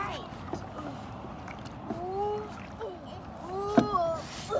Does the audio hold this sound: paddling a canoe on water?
yes